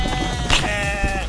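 A single sheep lets out a short, wavering bleat up close, loud and clear against a faint background.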